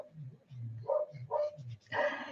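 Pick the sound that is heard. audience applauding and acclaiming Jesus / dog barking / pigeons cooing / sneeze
dog barking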